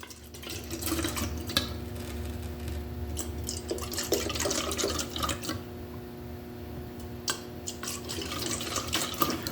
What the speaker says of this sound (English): Always hard to pour this stuff out without making an absolute mess.